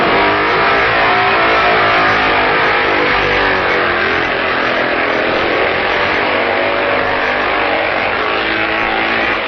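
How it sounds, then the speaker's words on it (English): Racing motorcycles at the 1965 Isle of Man TT, a loud, continuous engine roar that holds steady throughout, close and dominant with no talk. "Woodman and Dunphy in second and third places set off after their pit stops"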